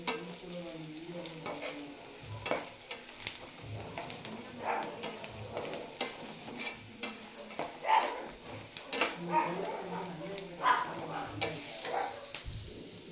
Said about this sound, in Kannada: 2 ನಿಮಿಷ ಹಾಗೆ ಬಿಟ್ಬಿಡಿ, ಚೆನ್ನಾಗಿ ಫ್ರೈ ಆಗಲಿ